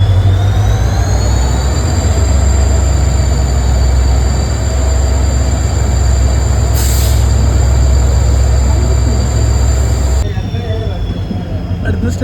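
A diesel locomotive train runs on rails between Mangalore Central and Subrahmanya Road. A loud, steady rumble of wheels and rail noise continues throughout, with a brief high squeal partway through.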